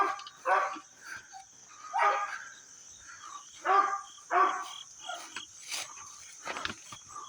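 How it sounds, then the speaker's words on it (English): A pet dog named Brian barks in a string of about six separate loud, close woofs spread across several seconds, with a steady high whine running underneath the whole time. "He's barking for me."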